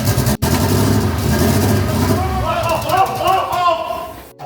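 A car engine with a cam sensor angle issue being cranked and then catching, a loud, rough, continuous churning that turns into an uneven running roar, with voices talking over it.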